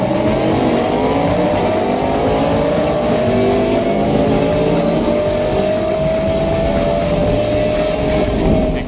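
Race cars launch from a standing start in a loud, continuous roar, with engine pitch climbing steadily as several cars accelerate together close by.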